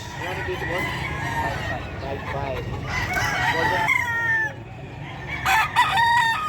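Several gamefowl roosters of the Pumpkin hatch crow at a busy Bocaue market, long rising calls overlapping near and loud amid constant crowd chatter and clucking, with sharper crows toward the end.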